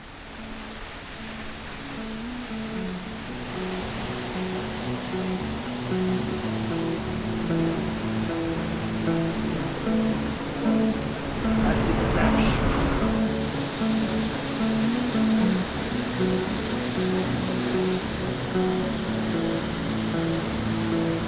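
A waterfall near a quiet forest pool in a Canadian old-growth cedar forest pours with a steady, even roar of rushing water that fills the scene throughout, with soft music beneath it and a brief swell midway.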